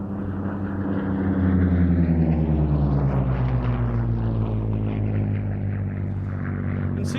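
Curtiss P-40 propeller fighter flying past at an air show, a loud sustained piston-engine drone that swells and shifts in pitch as it passes, alone without talk.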